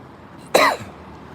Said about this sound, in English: Cold weather, man. Bringing my cough back.